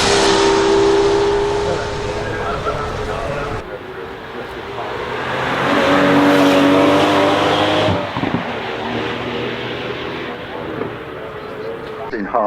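Aston Martin Valour, a V12 twin-turbo manual car, at the Goodwood Festival of Speed: a loud engine drone that falls, then builds again in a swelling rev and settles, with voices and crowd noise around it.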